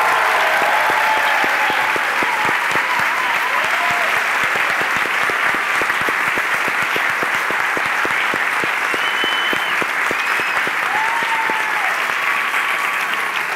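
A studio audience at a Turkish comedy talk show claps loudly and steadily to welcome comedian Mesut Süre, dense sustained applause with a few faint voices mixed in, no break throughout.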